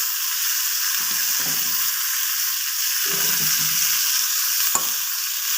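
Curry leaves sizzle loudly in hot oil for a tomato chutney, a steady close frying hiss with brief stirring bursts and one sharp crackle.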